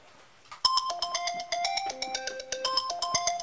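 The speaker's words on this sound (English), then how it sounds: "I'm gonna time it on my phone for 1 minute, and 1 minute only." A phone timer alarm rings while homemade marshmallow syrup boils, a bright repeating electronic melody of quick tones that starts abruptly and continues steadily, close and alone.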